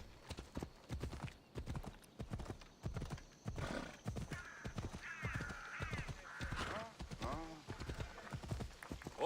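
Horse hooves clip-clop steadily in Assassin's Creed Odyssey, with a whinny partway through, while someone talks over the galloping.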